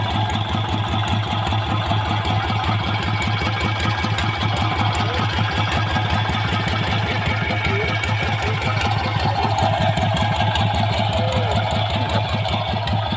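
A car engine runs steadily and loudly while the car sits stuck in a water pump pit, a continuous low rumble with a constant idle pulse throughout and no clear rises in revving.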